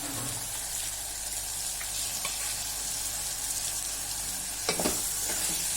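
Fried potatoes and cauliflower stirred into a sizzling pan of veg pulao, a soft continuous frying hiss with a few light scraping clinks of the spoon and one brief louder stir near the end.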